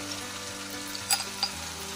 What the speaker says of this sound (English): So while the tofu is frying